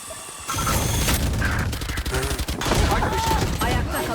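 Sustained automatic fire from an Ares machine gun in the shooter game Valorant, dense rapid bursts close and loud, with several guns firing at once and brief voice chatter mixed in.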